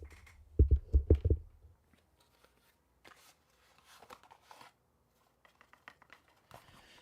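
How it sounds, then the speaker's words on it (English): A deck of Hermetic Tarot cards is shuffled up close, with a burst of loud thumps and riffles early on, then softer, scattered card slides and taps in a quiet room. "I'm going to shuffle the deck"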